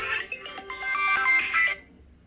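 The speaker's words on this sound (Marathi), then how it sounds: "आलाच मला फोन कुणाचा फोन आला" A mobile phone ringtone plays a bright, chiming melodic phrase for about two seconds during an incoming call, moderately loud and close, then cuts off into near silence.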